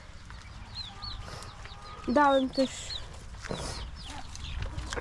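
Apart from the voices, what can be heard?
chickens and ducks on a farm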